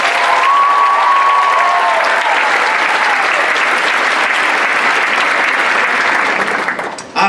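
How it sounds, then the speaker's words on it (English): Loud, continuous applause from a university event audience for organizers and performers, filling the room for about seven seconds before tapering off, with a faint tone briefly audible early on. "Can I just have another round of applause for the incredible organizers and the incredible"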